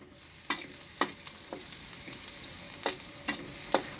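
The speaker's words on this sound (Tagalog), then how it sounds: "Nagluluto ng aking chef." Food frying in a home cooking pan, a steady low sizzle punctuated by about eight sharp stirring scrapes at a loose rhythm, close by, no voices.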